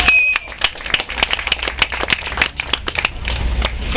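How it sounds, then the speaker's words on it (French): Scattered, uneven hand claps from a small outdoor audience at a Victorian festival welcome an actor, with individual sharp claps audible rather than a dense roar, over faint background voices. "On l'applaudit."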